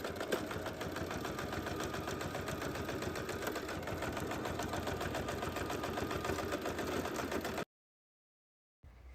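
Sewing machine stitching the black and white fabric handles of a small handbag, right sides pinned together; a steady, continuous mechanical whir runs close and loud for most of the stretch, then cuts out briefly before resuming.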